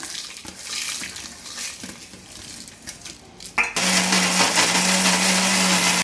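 A mixer grinder starts up suddenly partway through, coarsely grinding salt, tamarind and dried red chillies with a loud, steady whirring roar. Quieter clatter and handling come before it, and there is no speech.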